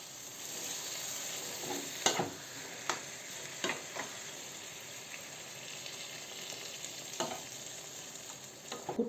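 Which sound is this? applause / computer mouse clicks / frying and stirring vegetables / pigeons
frying and stirring vegetables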